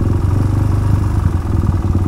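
Close up, a motorcycle engine idles at a red light in traffic at a busy five-way junction, a steady low throbbing putter with a little mechanical clatter and no talking.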